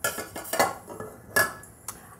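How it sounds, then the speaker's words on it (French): A small metal saucepan is set down inside a larger saucepan for a chocolate water bath, giving a few light metallic clinks and knocks, close and moderately quiet, with no talking. "et on pose la petite casserole dans la grande casserole."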